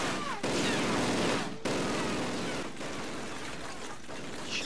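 Rapid gunfire in a classic Call of Duty battle royale match, dense bursts of automatic shots filling the whole stretch with brief pauses between volleys, loud and close.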